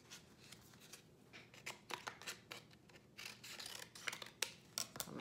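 Scissors snipping through paper while trimming a cut that went off line, a run of close, crisp, irregular clipping and rustling strokes that quicken toward the end, with no voice.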